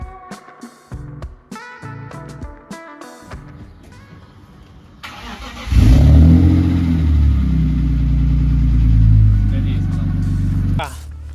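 In a garage, an Audi engine roars into life after a stretch of clattering and tool knocks, then runs loud and steady at idle for about five seconds before cutting off, with voices nearby.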